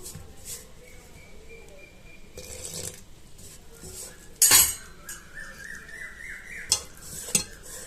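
A spoon scrapes and clinks against a bowl as cauliflower 65 masala batter is stirred with water, with a few louder knocks and a faint whine underneath.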